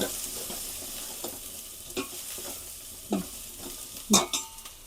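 Chopped ridge gourd sizzles in a hot pan while a spoon stirs it, with several sharp scraping strokes against the pan over a steady frying hiss.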